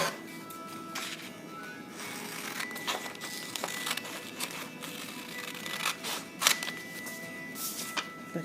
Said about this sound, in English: you're going to cut this part off